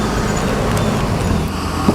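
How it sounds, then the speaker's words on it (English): A school bus rolls by in busy street traffic in a noisy neighborhood, a loud, continuous broadband roar of engines and tires with no pauses. "School bus"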